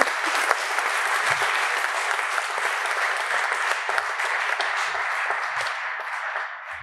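An audience at an award ceremony in Paderborn claps continuously in a dense, even wash of applause that holds steady throughout, with faint low thumps beneath and a slight fade at the very end.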